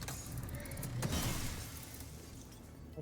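Glass shatters in the Pacific Drive video game as a bright crash, followed by a scattering tinkle of shards that fades out.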